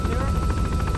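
A helicopter in the cooperative video game COOP2 Midnight Oil gives a loud, steady rotor thrum with a rhythmic chopping pulse, filling the whole clip under players' voices.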